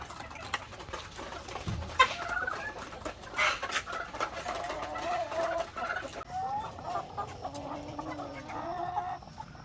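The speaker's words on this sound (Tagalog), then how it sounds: "Ito naman yung ating mga dinosaur na mga manok mga ka-farmers. So yan, mga shamo at saka asil." Shamo and Asil chickens, large game-fowl breeds kept on a farm, cluck and call repeatedly with overlapping bird sounds throughout, fairly close and steady, with no talking.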